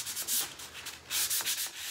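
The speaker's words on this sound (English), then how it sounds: "So my Dixie mud is already dried. I'm just sanding it down." Sandpaper rubs over a board coated with dried Dixie mud in quick back-and-forth strokes, a close, dry scratchy sanding sound heard alone.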